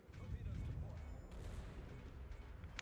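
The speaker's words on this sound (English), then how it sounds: "At least our little guns are getting him." Naval guns firing in the video game World of Warships, a low rumbling barrage of booms beneath ongoing battle noise, fairly faint and sustained, with someone talking over it.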